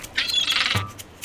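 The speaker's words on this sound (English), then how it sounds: "That's not a dolphin, that's a seagull." A seagull in a children's cartoon gives a harsh, raspy squawk lasting under a second, set against a seaside background of waves.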